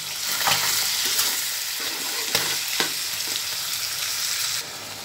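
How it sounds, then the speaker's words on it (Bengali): Chicken skin and feet fry without water in a pan with ginger, garlic, cumin, garam masala, chili powder, turmeric and salt. A steady close sizzle runs under repeated scraping stirs, and no one speaks. "আমার মুরগির আটা, চামড়া, পা একসাথে ভাজা ভাজা কিছুটা হয়ে গেছে।"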